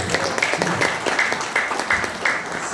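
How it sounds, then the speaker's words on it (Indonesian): Audience applause at a community gathering in Manado, Indonesia, with steady clapping from a crowd that swells in a few repeated bursts, filling the room throughout. "Jadi tepuk tangan."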